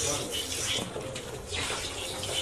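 A buffalo is milked by hand into an empty pot on a dairy farm, giving a steady hissing spray of milk streams, with voices talking in the background.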